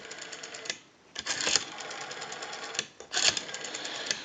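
A Western Electric 302 metal rotary desk telephone dial spins back in a quick ratcheting whir, slightly sluggish and in need of cleaning and oiling, repeated in several close bursts with brief pauses between them.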